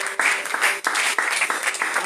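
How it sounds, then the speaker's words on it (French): A church congregation applauds for its pastor during a service, a brief dense patter of many hands with small surges and a momentary dip, close and loud. "Est-ce qu'on peut applaudir pour notre papa?"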